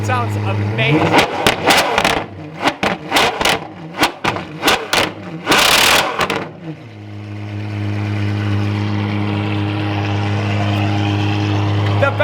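Loud, rapid throttle blips from a megacar's V12 engine crackle close by for several seconds, then the engine drops into a steady, deep idle, with people speaking nearby.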